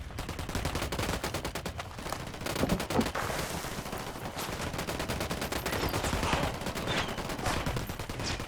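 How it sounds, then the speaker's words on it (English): Rapid automatic gunfire from the video game Ghost Recon Wildlands, with dense overlapping bursts firing almost continuously at steady loudness across the whole stretch. "I'm shooting these fuckers."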